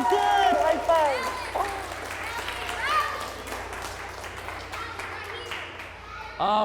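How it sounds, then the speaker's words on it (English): Children clap in a group during a school science show, a loud burst of applause that fades while voices and excited chatter carry on over and after it. "Let's give Mother Nature a big clap."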